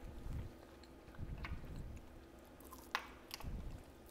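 Soft, wet chewing and biting on chicken party wings, in close, quiet bursts spread across a few seconds with short pauses between them, and no talking over it.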